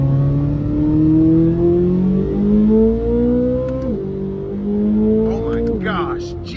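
A 2023 Chevrolet Corvette Z06 3LZ with a 5.5-liter engine accelerates hard in Z mode, loud and close, its engine note rising steeply through the gears with quick paddle-shift drops and surging again.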